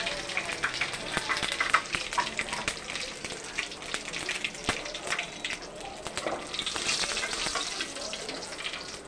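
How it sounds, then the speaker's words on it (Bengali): Cumin seeds sizzle and crackle steadily in hot oil in a home kitchen pan while fish is cooked, a dense continuous frying hiss with small pops throughout, fairly close. "আগে একটু জিরা দিয়ে দেবো"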